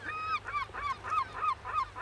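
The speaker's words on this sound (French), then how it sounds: "Ici, un goéland argenté, souvent confondu avec le complexe des mouettes" A herring gull calls on the French Atlantic coast, giving a rapid series of about seven loud, repeated yelping notes in a steady rhythm, heard clearly and close.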